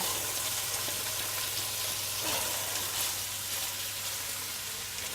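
Crusted paleo chicken breast fries in hot fat, a steady close hiss of sizzling broken by sharp spits and crackles, with no talking.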